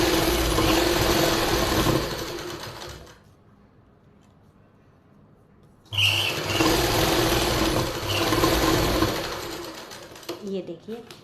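A sewing machine stitches a waistband belt onto the back panel of palazzo pant fabric, running in two steady whirring bursts separated by a quiet pause, followed by a few light handling clicks.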